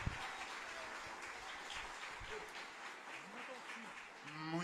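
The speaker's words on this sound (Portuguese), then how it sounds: "Pode dar uma salva de palmas para ele merece." Audience applause for Pastor Roberto at a church conference, a steady, dense wash of clapping filling the room throughout, with a voice briefly heard near the end.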